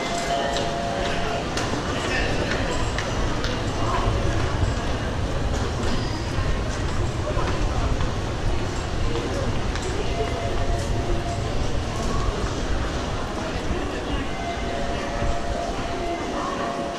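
A train runs through a busy railway station in Osaka, Japan, with a loud, steady rumble of rolling rail cars throughout. Voices murmur faintly in the background.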